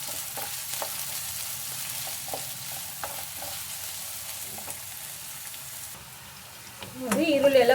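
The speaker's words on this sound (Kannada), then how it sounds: "ಕ್ಲೀನಾಗಿ ಹೈ ಫ್ಲೇಮಲ್ಲಿ ಇಟ್ಕೊಂಡು ಗೋಲ್ಡನ್ ಬ್ರೌನ್ ಬರೋವರೆಗೂ ಫ್ರೈ ಮಾಡ್ಕೊಳ್ಳಿ." Chopped onions fry on high flame in a pan for a soya chunk gravy, a continuous close sizzle with occasional stirring scrapes, and a louder clatter and hiss near the end.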